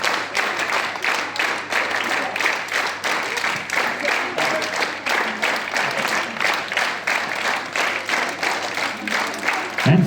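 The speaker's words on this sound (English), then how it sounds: "It is asked to clap." Audience clapping at a prize distribution for a Nepali story writing competition, a group clapping in a fairly regular rhythm with distinct beats pulsing throughout, sustained for about ten seconds.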